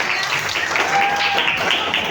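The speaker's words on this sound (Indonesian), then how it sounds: "Kita berikan tepuk tangan untuk Ibu dan kelompoknya" Brief applause from a class of students in a school lesson, a short burst of clapping with voices mixed in and a faint whistle-like tone partway through.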